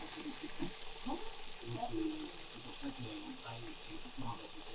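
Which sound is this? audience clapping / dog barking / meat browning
meat browning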